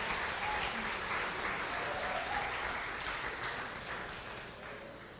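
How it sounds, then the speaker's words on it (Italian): Sustained crowd applause in a school auditorium for a student who won, a dense steady wash of clapping that slowly fades, with faint voices underneath. "E un applauso anche a Arianna"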